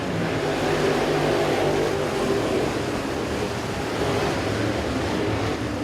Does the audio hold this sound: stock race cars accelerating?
yes